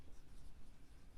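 A teacher writing on a board during a maths lesson: a soft, continuous rubbing scratch at close range, faint and alone.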